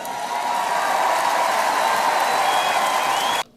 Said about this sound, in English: Was the crowd cheering? Yes, they were cheering.